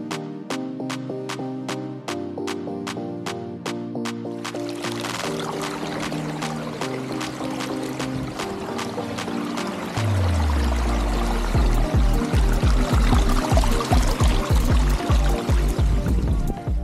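Water pours continuously from two 2500-size biofalls into a heavily filtered backyard pond water feature, with the splashing growing louder and fuller partway through.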